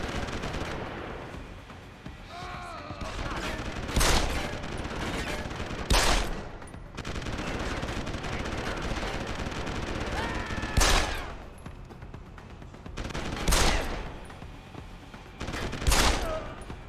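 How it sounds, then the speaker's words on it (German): Gunfire in Deus Ex: Human Revolution comes in about five sharp, loud bursts spread across the stretch, separated by quieter ambient background. "Warum schießen wir so doll?"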